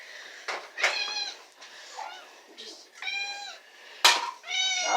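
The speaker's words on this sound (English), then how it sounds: "I present to you the house of many, many meows." Several house cats meowing while waiting to be fed tuna, overlapping close, insistent meows in quick succession with brief pauses, loud and clear.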